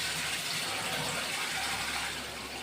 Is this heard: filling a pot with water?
yes